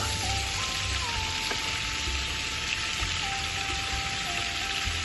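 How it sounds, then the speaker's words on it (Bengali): Butter melting into hot white oil in a pan, giving a steady, even sizzle and crackle close by with no talking, while a faint thin tone runs in the background. "এবার আমি 2 টিস্পুন বাটার দিলাম। সাদা তেল আর বাটারের কম্বিনেশন।"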